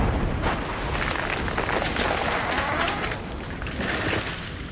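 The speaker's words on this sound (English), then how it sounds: "it was followed seconds later by a crashing broadside" A crashing broadside from the cannon of an 18th-century British naval warship with every gun double-loaded, heard as a loud continuous roar of overlapping booms that fills several seconds and eases slightly near the end.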